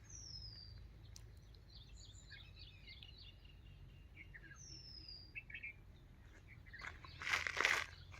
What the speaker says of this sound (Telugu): యాక్చువల్గా ఈ సౌండ్స్ కూడా వినవచ్చు, పక్షుల సౌండ్స్.